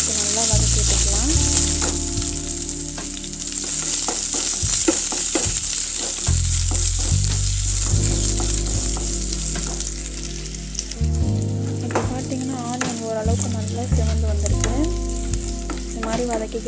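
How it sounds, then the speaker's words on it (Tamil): Onion and chillies sauté in a pan for sambar, giving a steady, close sizzle with occasional stirring, over background music. "சேர்த்து நல்லா வதக்கி விட்டுக்கலாம்"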